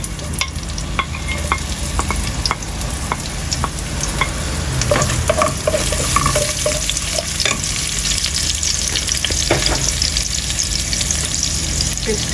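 Onion, garlic and green chili frying in a pan for a hilsa fish head and ash gourd curry, a steady close sizzle with scattered crackles and occasional stirring scrapes, no talk.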